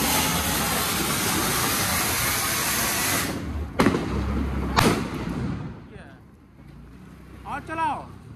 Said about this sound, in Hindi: देखो ये था पटाखा